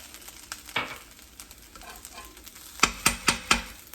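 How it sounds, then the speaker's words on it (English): Beaten eggs are scrambled with a utensil on the side of a hot wok over a faint sizzle, with scattered scrapes and then four sharp, quick metallic knocks, close and without talk. "you just take and you scramble your eggs right here on the side of this wok"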